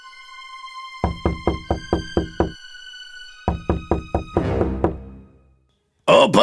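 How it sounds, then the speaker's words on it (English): A storybook wolf knocks on the door of a straw house, two quick series of sharp, hollow knocks, about six raps each, loud and close, against a soft sustained musical tone, followed by a brief burst of voice. "The wolf knocked on the door."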